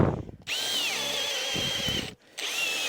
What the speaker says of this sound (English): the Bosch Spade bit, John's Milwaukee combi drill